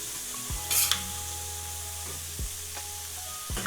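Mince, onions and vegetables fry on a flat griddle with a soft, low sizzle, broken by occasional scraping and stirring strokes of a spatula, fairly quiet and close with a faint steady hum beneath.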